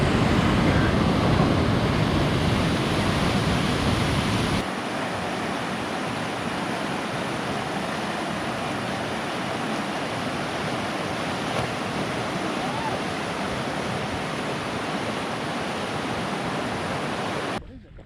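Steady, loud roar of rushing whitewater rapids on the Spanish River running continuously throughout, a broad hiss that drops slightly in level partway through and never lets up.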